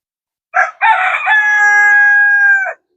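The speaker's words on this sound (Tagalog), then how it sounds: "Look, the chickens want one." A rooster crows loudly and close by, with a short clucking burst first, then one long sustained cock-a-doodle-doo that ends abruptly.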